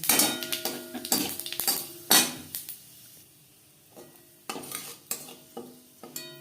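Panch phoron spices hit hot oil left from frying fish, setting off bursts of crackling sizzle mixed with clangs of a utensil against the pan, then quieter sputters and further clinks.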